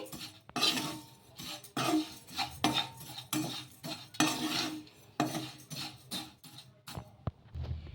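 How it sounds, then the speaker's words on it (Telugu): Wheat rava being roasted in a pan over medium heat, stirred with a spoon: scraping strokes and clinks of metal against the pan recur in an uneven rhythm, close and fairly clear, with no voices. "మీడియంగా పెట్టుకొని వేయించేసుకోవాలి"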